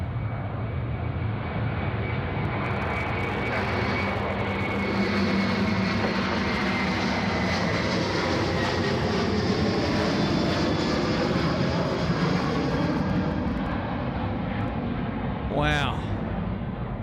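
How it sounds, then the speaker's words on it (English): A large jet departs runway 34 Right at Sydney Airport with a loud, sustained engine roar that persists throughout as it climbs away. A person speaks over it, and a brief chirp is heard near the end. "First big aircraft departure on runway 34 right this morning"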